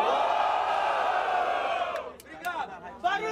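A live crowd at a rap battle roars and cheers for a rapper, a loud sustained mass of yelling and whooping that thins out near the end into scattered shouts and a few claps.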